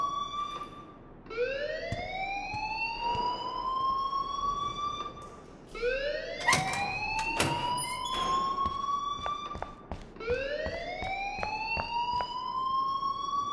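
An alarm in Life is Strange wails steadily in repeating rising sweeps about every four seconds, loud and continuous, with scattered sharp clatters and knocks between the cycles.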